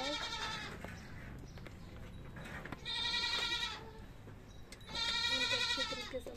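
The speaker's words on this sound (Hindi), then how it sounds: "एक थन की बकरी है" A goat with a single large teat bleats during hand milking in a village, two loud drawn-out bleats a couple of seconds apart over faint background noise.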